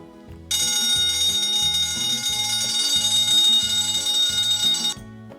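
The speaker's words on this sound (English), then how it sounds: "the fire alarm went off." A loud electric alarm bell rings continuously for several seconds, a harsh metallic clatter with a steady pulsing rhythm underneath, then cuts off abruptly.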